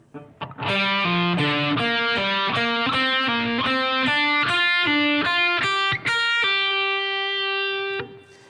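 A distorted electric guitar solo run plays up close: a rapid string of picked notes, ending on a long sustained note that rings out before cutting off, with no talking.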